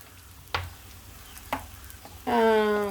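Egg stir-fry being stirred in an oiled pan, with two brief scraping strokes followed by a rising sizzle near the end, close and clear with no talk.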